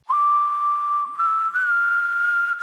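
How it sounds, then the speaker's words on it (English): Clear human whistling run through auto-tune for the Gravity Falls theme, a steady pitch-corrected tone held alone and close with small stepwise jumps between notes. "Here's what the whistling sounds like."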